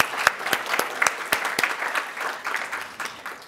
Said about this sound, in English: Let's also applaud our faculty members for their contributions.